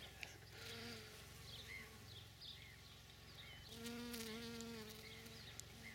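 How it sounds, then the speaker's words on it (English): Bees, mainly honeybees, buzz softly around blooming rosemary in an April garden, a steady faint hum with a few louder passes close by. "the rosemary continues to bloom. It's covered in bees."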